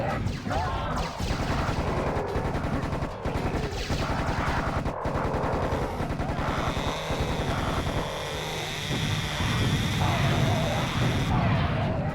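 In the shooter Serious Sam Revolution, rapid gunfire rattles in dense bursts alongside rocket launches and blasts, with a sustained mechanical whine building later as someone talks over the combat.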